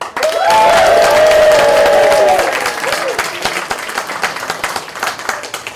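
A theatre crowd at a Shakespeare improv performance claps loudly and cheers, with whoops and shouts rising over the applause early on before it settles into a steady patter of hands.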